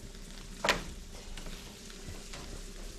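Eggs sizzling in a hot pan for breakfast, one sharp spatter then a low steady crackle, close and alone.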